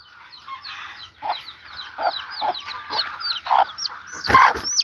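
Hens clucking in a farm greenhouse, a run of short, choppy clucks and squawks close by, growing louder with one sharp squawk near the end.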